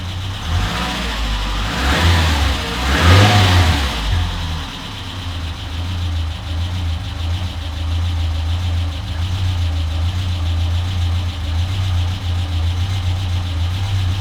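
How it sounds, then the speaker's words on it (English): A Renault Trafic van's swapped-in 2165cc 2.2 engine idles steadily and close by, a low, even rumble after a brief rev at the start, with no talking over it. "Sounds pretty good. That's pretty stable, that idle."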